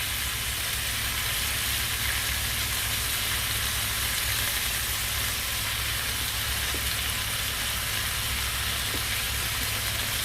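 Butter melts in a hot pan with lamb chops, giving a steady, dense sizzle and crackle that holds evenly throughout with no voices.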